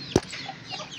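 A chicken gives one short, sharp cluck close by, followed by quieter faint bird chatter and soft farmyard background on a small homestead with ducklings and quail.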